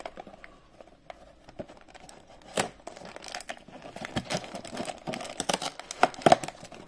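A LEGO 21164 Minecraft Coral Reef set box is opened by hand, its cardboard and plastic packaging giving scattered crinkles, rips and light taps that grow busier and louder toward the end.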